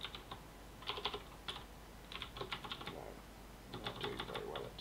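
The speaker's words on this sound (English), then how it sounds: "Typing." Computer keyboard typing in bursts of quick, uneven keystrokes with short pauses between, close and fairly clear, no speech.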